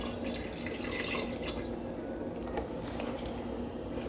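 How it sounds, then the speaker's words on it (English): Water or chicken broth pours into a pot of bones for bone broth, making a steady, continuous splashing and dripping. It starts busier and softens toward the end, with no talk over it. "So now I'm going to add liquid, water or chicken broth until I've got everything completely covered."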